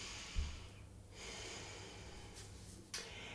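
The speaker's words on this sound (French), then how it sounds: "Prends un moment pour une bonne inspiration, respiration profonde pour te centrer un peu." A slow, deep breath drawn in during a calm guided relaxation, soft and close, with a faint snort-like catch at the start and no talking over it.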